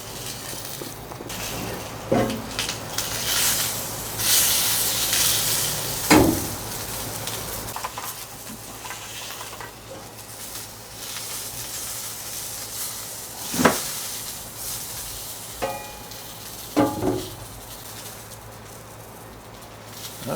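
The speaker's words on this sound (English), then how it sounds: "It's really great to barbecue or griddle them" Steady soft sizzling of hot dogs on a hot Blackstone griddle, with occasional sharp clicks and scrapes of a utensil; no talking.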